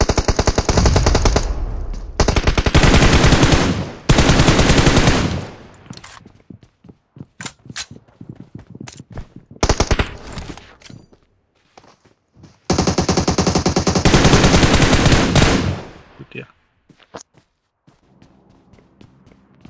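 Automatic gunfire in the mobile battle royale game BGMI, with loud bursts in several long runs broken by single sharp shots, brief pauses and footsteps, close and without talk.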